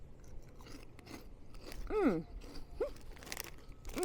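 Close crunching and chewing of a thin, sweet local snack from Grenada, with brisk bites amid short vocal sounds.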